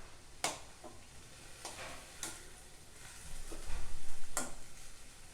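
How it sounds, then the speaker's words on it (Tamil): Boiled cluster beans being stirred together with grated coconut in a pan, a faint low sizzle with a few soft, widely spaced utensil taps and scrapes, no voices. "ஒன்றா நல்லா கலந்து விட்டுறலாம்"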